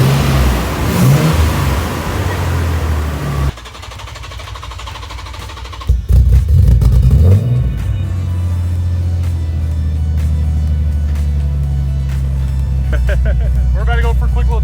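A 1990 Nissan 300ZX engine idles and revs before a test drive, a close, steady mid-pitched rumble with a brief rev burst partway through; people talk over it at times.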